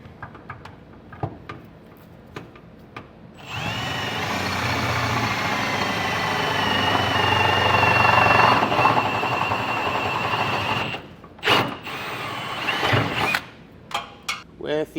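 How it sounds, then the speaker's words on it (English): A drill bores safety chain holes upward from below through the steel of an underbed gooseneck trailer hitch on a 2023 Chevrolet Silverado, a steady grinding whir for several seconds, followed by scattered clanks and knocks. "We'll drill from the bottom up and get all 4 of them done."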